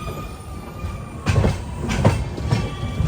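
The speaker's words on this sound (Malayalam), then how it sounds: "ഒരു ട്രെയിൻ വരുന്നുണ്ട്, കോയമ്പത്തൂർ ഹിസാർ AC എക്സ്പ്രസ്." Coimbatore–Hisar AC Express train pulling into a station, a steady rumble of wheels with rhythmic clacks as carriages roll over rail joints, growing slightly louder.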